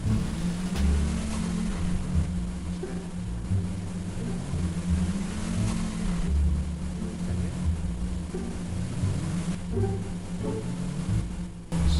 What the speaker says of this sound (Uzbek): bu mashinaning ovozi juda ham baland ekan